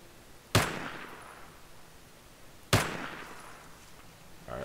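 Two sharp shotgun blasts from an enemy in STALKER, spaced about two seconds apart, each a loud crack with a decaying echo against a quiet background.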